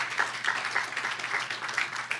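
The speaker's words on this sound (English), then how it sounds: "a big round of applause to TSU" A conference audience applauds a pharmacy school, with soft, moderately dense clapping from a room full of people, somewhat muffled and brief.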